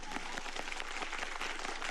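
A group claps their hands hard and fast in steady, dense applause as part of a hand-clapping acupressure exercise.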